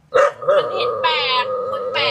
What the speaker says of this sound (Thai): ทำไมตัวนี้มันเห่าอ่ะ